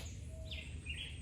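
A brief bird call at Rockland bird sanctuary in Jamaica, a couple of faint high chirps over a low steady background.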